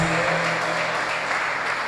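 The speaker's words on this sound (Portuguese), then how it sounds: "vamos aplaudir bem forte ao Senhor Jesus" Dense, steady clapping from a large church congregation fills the whole stretch, loud and continuous, with a faint low tone lingering briefly at the start.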